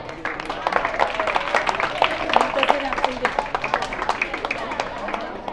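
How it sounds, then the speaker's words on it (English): Moderate audience clapping for students receiving certificates at a religious celebration, an uneven patter of hands with murmuring voices underneath. "I request you to give them a big round of applause to all of them."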